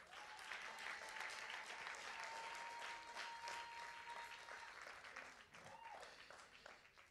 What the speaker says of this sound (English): Come on, clap your hands better than that.